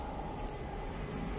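London Underground train passing near Caledonian Road, a steady low rumble and rushing noise, quiet and continuous throughout with no voices.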